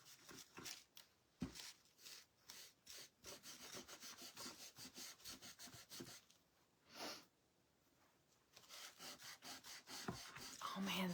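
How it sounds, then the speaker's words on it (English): Repeated hand rubbing strokes on a wood slice, rhythmic scratchy swishes close to the ear, very quiet overall, with a short pause midway before the strokes resume. "I'll rub it on the wood slice now."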